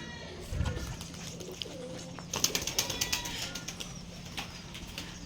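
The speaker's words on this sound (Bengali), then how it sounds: "শাওন ভাই এখন কবুতর ছাড়বে" Pigeons kept by a hobbyist loft owner are let go in a burst of wing flaps near at hand, followed by scattered fluttering and faint cooing and chirps, with voices talking briefly in the background.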